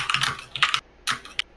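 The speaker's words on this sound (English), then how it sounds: "Yeah, Sil, your keyboard is very loud," Loud computer keyboard typing heard close up, quick bursts of sharp key clatter separated by brief pauses, with no talking.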